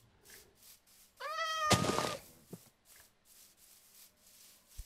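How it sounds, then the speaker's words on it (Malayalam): Cat meowing in the video game Minecraft: a clear rising-falling meow of several harmonics, followed by a loud broadband rustling burst, then faint soft clicks under quiet background. "ഒരു പൂച്ച, ഒരു പൂച്ച"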